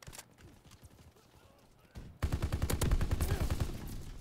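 Call of Duty: WWII gunfight, quiet distant shots at first, then loud rapid automatic gunfire bursting in midway and continuing steadily to the end.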